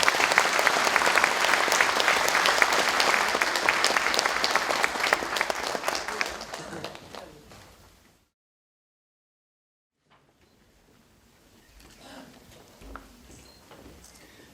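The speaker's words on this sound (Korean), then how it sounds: "큰 박수로 맞이해 주시면 감사하겠습니다." Loud, dense applause from a large audience at a university president's inauguration ceremony, sustained for several seconds before fading into near silence, with faint room noise afterward.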